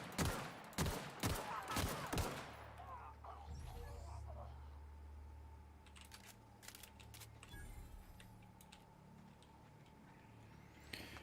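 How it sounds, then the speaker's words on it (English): Gunfire in The Outer Worlds: a quick run of loud, sharp shots in the opening seconds, then a steady low rumble of game ambience with a few fainter, scattered clicks and bangs. "So now I can slow down time and shoot people in the head."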